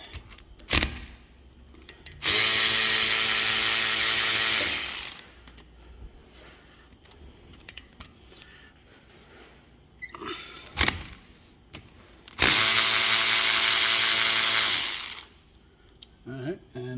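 Brake caliper bolts on a 1997 Jeep Grand Cherokee 4x4 being loosened with a power tool. Two loud, steady whirring bursts of about three seconds each are separated by clanks, tool handling and someone talking.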